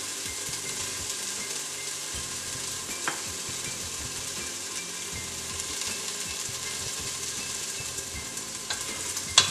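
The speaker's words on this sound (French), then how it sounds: "je les mélange bien," Spices and ginger-garlic paste being stirred in a cooking pot (cocotte) for a spiced vegetable dish, a steady close sizzle with scraping stir sounds throughout and a sharper knock near the end, no talking.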